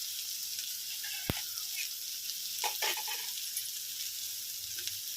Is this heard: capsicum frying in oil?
yes